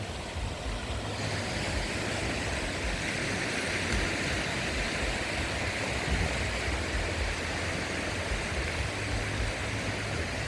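Sea waves at Chao Lao beach in Chanthaburi wash in as a dense, continuous roar of surf on an evening shore, steady and even throughout with no voices.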